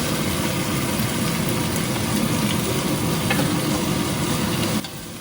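Chopped sweet potato, carrot and apple tumbling into a hot pot for soup, a loud steady sizzling hiss that cuts off abruptly near the end.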